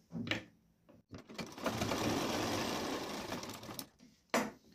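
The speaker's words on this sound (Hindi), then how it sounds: "इसको अटैच कर दीजिए सिलाई लगाकर" A sewing machine runs in one steady burst of about three seconds, stitching a fabric strip onto a blouse, with short handling clicks and taps before and after.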